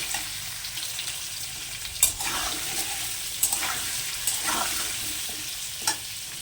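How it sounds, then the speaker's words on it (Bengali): Potatoes sizzling steadily in a hot pan, a constant bright hiss broken by a few sharp scrapes and clinks of stirring. "আলুটা প্রায় ভাজা ভাজা হয়ে আসছে"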